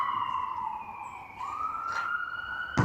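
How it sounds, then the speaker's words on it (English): A wailing police siren rises and falls steadily, moderately loud and continuous, with a sharp knock near the end. "God damn them police sirens are, for God's sake. You hear that?"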